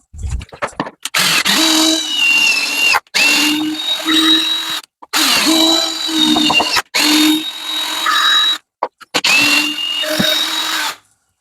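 A power drill drives a screw into a door while fitting a manual door lock, running in several separate bursts of steady whirring with short silent pauses between them, close and loud.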